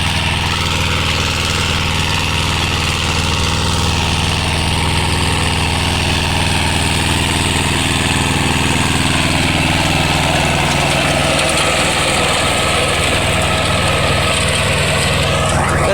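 A Mahindra Jivo 245 DI tractor engine runs loud and close, a steady throbbing drone that holds unbroken for the whole stretch, with no talk over it.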